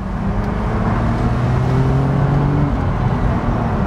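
BMW 125i Cabriolet with the roof down accelerating to 50 mph, a steady loud engine drone with rising tonal lines under road and wind noise, no talking.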